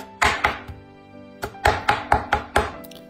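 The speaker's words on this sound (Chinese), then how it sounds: "取一块熏肉，把它剁碎，然后再取一些尖椒也剁碎" A cleaver chops smoked meat and hot chili peppers on a board, striking hard about eight times: two blows, a pause, then a quicker run of loud, close thuds.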